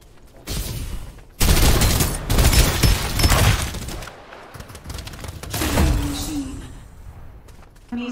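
Gunfire in the video game Farlight 84: loud, dense bursts of automatic shots in several volleys, with short pauses between them and a fainter rattle trailing off near the end.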